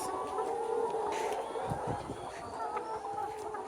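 Pullet layer chickens, 128 days old, cluck softly against a constant low background hum, with a few scattered calls from the flock.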